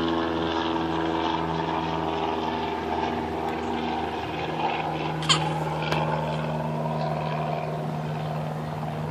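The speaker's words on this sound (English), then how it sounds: "Did you see a plane?" A plane flies over a park playground, its low engine drone steady and moderately loud for the whole stretch, with a couple of faint clicks and no talking.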